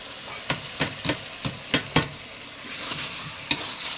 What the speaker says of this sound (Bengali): তেল বের হয়ে গেছে আমরা এখন চিংড়ি মাছগুলো দিয়ে দিলাম